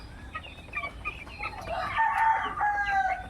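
Broiler chickens about twelve days old in a pen make a close chorus of overlapping clucks and chirps, with a louder burst of calls in the second half and no talking.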